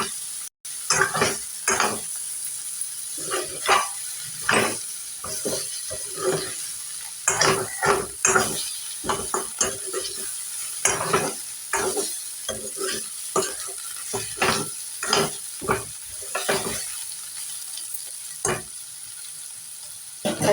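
Bitter gourd and ginger fry in a pan under repeated stirring, with rhythmic spatula scrapes and clatters over a constant close sizzle, no talking.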